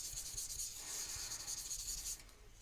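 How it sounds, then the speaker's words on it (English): A powder tool rubbed over patterned paper before heat embossing, a steady close brushing hiss in quick back-and-forth strokes, soft and continuous, easing off near the end. "So I'm going to use some of my powder tool here, just so the embossing powder will only stick where I want it to"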